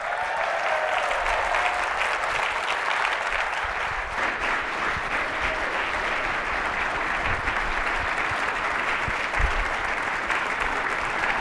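An audience gives a standing ovation welcoming Nevada Governor Joe Lombardo at a talk event, with loud sustained applause from a large crowd running steadily throughout and a faint murmur of voices underneath.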